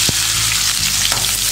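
Small shallots fry loudly in hot oil with fennel seeds, cloves, cinnamon and curry leaves, a dense, constant close sizzle with a couple of brief stirring knocks.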